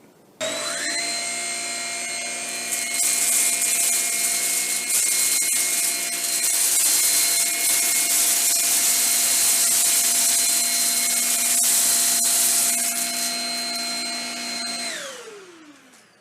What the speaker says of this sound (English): we ran the vacuum over it in about a 10-second pass